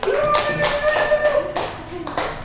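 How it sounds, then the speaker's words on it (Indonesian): A short burst of clapping, several hands applauding together at close range while voices carry on over it. "Tepuk tangan buat Mas Ali."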